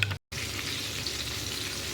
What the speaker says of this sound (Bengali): পটলগুলো এখানে লাল লাল করে ভাজা হয়ে যাচ্ছে।